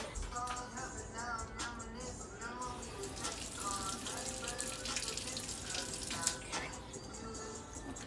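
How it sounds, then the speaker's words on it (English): Tap water runs steadily over a can lid being rinsed in a kitchen sink, a constant splashing hiss with faint handling clatter, and a voice talking over it. "So let's rinse off the lid."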